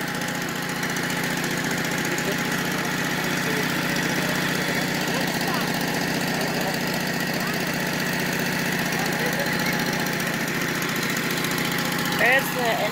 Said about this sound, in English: There's the engine, the exhaust.